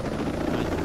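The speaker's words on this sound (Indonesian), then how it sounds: "Naik helikopter bang, siap." A helicopter in the video game Ghost Recon Breakpoint gives a loud, continuous rotor thrum with a steady low pulsing throb and engine whine, close and dominant for under a second.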